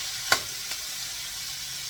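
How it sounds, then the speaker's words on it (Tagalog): Tomatoes dropped into a hot pan of pork and reddened garlic give a steady, quiet sizzle with a sharp splash near the start and a smaller one shortly after, no voices. "Mapula na ang ating bawang. Ihuhulog natin ang kamatis."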